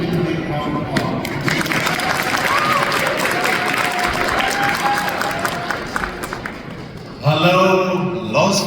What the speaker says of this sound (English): Let's welcome Honorable Dr. Sa Sa and give him a big round of applause.